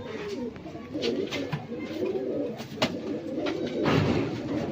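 Lokhande pigeons, a breed now popular in Maharashtra, kept as a pair, give soft low repeated coos that run steadily throughout, close by, with faint rustling and brief clicks mixed in.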